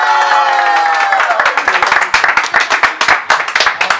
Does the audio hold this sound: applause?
yes